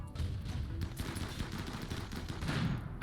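Rapid gunfire in the video game Rimworld, a dense rattle of overlapping shots, fairly loud and continuous for a few seconds.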